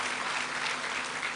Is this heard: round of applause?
yes